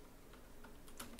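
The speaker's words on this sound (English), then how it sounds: "there's some people that are touch typists and the keyboard sounds like this" A few quick, soft keyboard key taps, faint and close, in a brief irregular patter.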